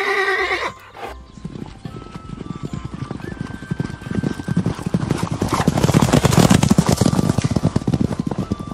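A horse neighs loudly at the start, then hooves clip-clop in a fast steady rhythm that grows closer and louder.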